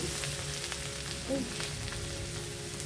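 Garlic dropped into a pan of melted butter gives a continuous close, hissing sizzle, steady throughout with a faint tonal hum in the background.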